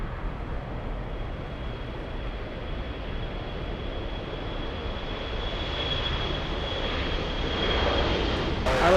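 Boeing 777 airliner engines at LAX roar as a steady, broad jet rumble that swells gradually louder toward the end, heard from a distance without talk.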